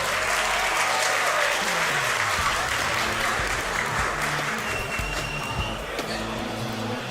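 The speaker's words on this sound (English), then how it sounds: "let's give, I think, from the crowd, a round of applause for our finalist." A crowd applauds the finalists at a Yu-Gi-Oh! World Championship qualifier in Berlin, with sustained, even clapping throughout and a commentator talking faintly underneath.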